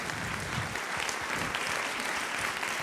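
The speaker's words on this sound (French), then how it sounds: "Je vous demande de les applaudir aussi, s'il vous plaît." Audience at a CJD Val d'Oise business gala applauding, a dense continuous wash of many hands clapping at steady loudness throughout, with no voices over it.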